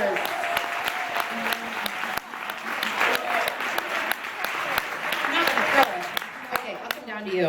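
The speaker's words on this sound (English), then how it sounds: "Give her a round of applause." A crowd at a live comedy-style show applauds a prize winner, steady clapping with scattered louder claps and some talk over it.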